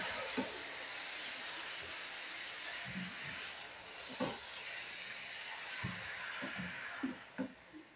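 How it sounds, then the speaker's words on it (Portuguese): Chicken pieces fry in a pan for a chicken stroganoff, giving a steady loud sizzling hiss with a few soft clinks and knocks scattered through it, and no talking. "Agora eu vou deixar dar uma fritadinha aqui."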